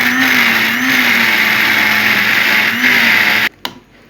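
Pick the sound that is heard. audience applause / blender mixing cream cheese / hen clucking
blender mixing cream cheese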